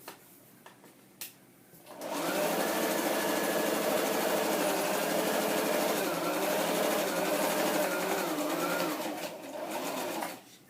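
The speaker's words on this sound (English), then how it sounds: "this part, because it's going to be the pocket, is getting stitched all on its own." A sewing machine stitches a paper scrapbook page pocket, its steady motor whir starting after a brief pause and running continuously and fairly loud, easing slightly near the end.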